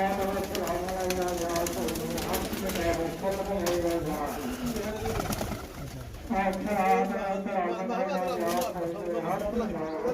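Caged pigeons coo in soft repeated rolls nearby while someone talks over them almost throughout, with a brief dip in the sound partway through.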